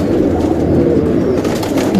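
Female pigeon of a colouring breed cooing close by, a loud continuous throaty coo filling the short stretch, no talk.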